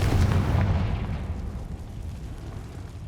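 A Confringo blasting spell goes off in a video game, a loud booming explosion that starts strong and rolls into a long, dense rumbling decay with no speech over it.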